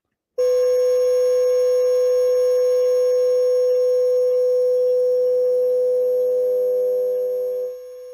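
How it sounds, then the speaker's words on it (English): Steady electronic censor bleep, a single loud sustained tone that starts abruptly and holds unbroken for about seven seconds, then drops in level near the end, with no other sound behind it. "could they have a more annoying sound blocking thing?"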